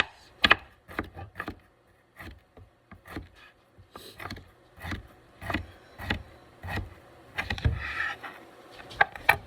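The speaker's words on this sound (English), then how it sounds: "You can start chopping these herbs and spices" A knife chops herbs and spices on a cutting board in a home catering kitchen, a series of sharp, irregular knocks spaced about half a second apart, close and clear with no talk.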